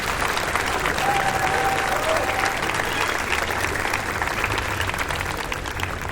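An audience at a talk applauds, sustained hand clapping filling the room at moderate level for several seconds, with a faint voice briefly audible amid the clapping.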